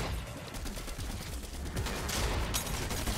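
In Fortnite, shotgun blasts blur into a dense, continuous barrage of gunfire, loud and close, with a sharper cluster of shots near the end.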